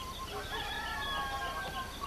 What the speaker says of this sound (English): We thought you meant chickens.